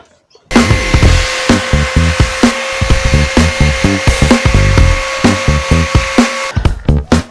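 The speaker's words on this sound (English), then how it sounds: "Now I think I'll hit the sander and see what happens." A power sander fitted with 40-grit paper grinds against a wood workpiece, a loud, steady abrasive rasp carrying a constant motor whine, with rhythmic pulses as it sweeps back and forth, then it cuts off near the end.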